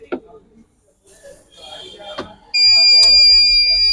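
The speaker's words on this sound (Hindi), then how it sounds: "बजर की आवाज़ आ गई है हमें, उम्मीद कर सकता हूँ शायद चेंज ओवर हो गया हो" Livguard LG 700i inverter buzzer sounding: after some light handling clicks and a brief voice, a loud, steady electronic buzz starts suddenly and continues unbroken to the end.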